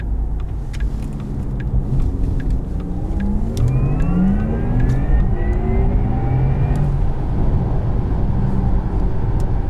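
A 2020 Porsche Taycan Turbo accelerating up an entrance ramp, its electric drive whine rising in pitch over a steady loud road and tire rumble, with no talking.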